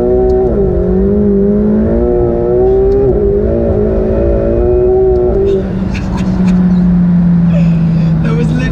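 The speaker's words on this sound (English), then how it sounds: "That was literally just wheel spin." A McLaren 720S Spider's engine roars loud and close as the car tries to accelerate with wheel spin, its revs climbing then holding in a long sustained drone; voices talk over the later part.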